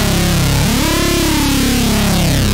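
A sustain bass synth patch built in Serum plays one loud, distorted note held for about two and a half seconds, its pitch sliding upward partway through, with dense gritty harmonics and no other sound.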